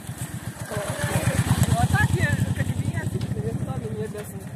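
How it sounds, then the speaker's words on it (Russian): A Harley-Davidson motorcycle rumbles close by on a road, its engine giving a steady, loud pulsing throb throughout, while people talk faintly over it. "Харли Дэвидсон едет."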